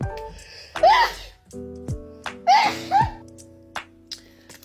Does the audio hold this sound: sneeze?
yes